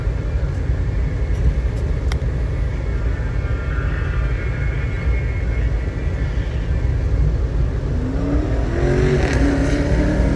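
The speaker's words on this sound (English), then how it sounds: "Doing some burnouts here." An Oldsmobile diesel car doing burnouts, a continuous loud engine roar with rough broadband tire and exhaust noise held steady throughout, rising in pitch near the end as the engine revs up.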